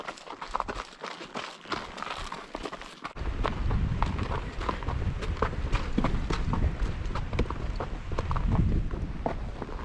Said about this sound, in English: Apart from the sounds of the horses' hooves.